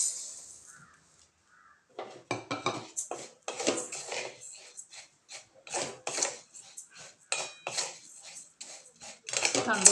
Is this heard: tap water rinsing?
no